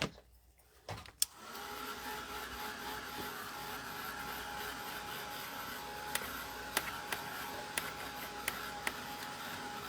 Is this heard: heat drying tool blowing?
yes